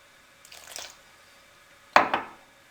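Lukewarm water poured little by little into samosa dough, two short splashing pours separated by a quiet pause, close and clear with no voices.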